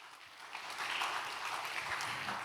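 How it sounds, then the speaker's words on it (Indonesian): Media audience applauding at a press conference for the Indonesian Film Festival 2023, a soft, distant, steady patter of clapping that swells slightly midway, without talking. "Terima kasih tepuk tangannya teman-teman media"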